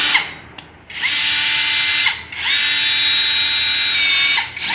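A power drill from a 5-in-1 multipurpose tool kit whines loudly up close in several sustained runs, briefly dropping off between bursts and revving back up to a steady high-pitched motor drone.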